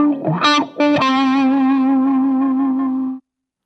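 A short electric guitar riff with distortion and effects: a few quick picked notes, then one held note that rings out and cuts off.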